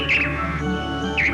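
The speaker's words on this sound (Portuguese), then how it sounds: "Eles começam a piar sem parar." A group of four birds gathered for breeding chirps nonstop in Brazil's Atlantic Forest. Bright calls rise near the start and again at the end over a steady background of forest sound.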